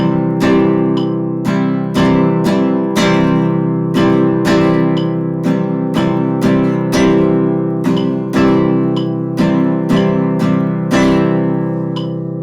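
Acoustic guitar strummed in a common folk pattern using only downstrokes: a loud, close, even sequence of about seventeen ringing chord strokes in a steady rhythm, with no talking.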